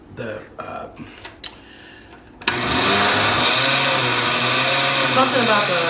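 A blender runs loud and steady, churning lime juice and milk together for a carlota de limón, starting abruptly after a few quiet seconds and whirring continuously to the end.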